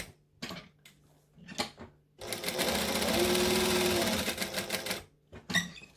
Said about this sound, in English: I'm just going to stitch around the box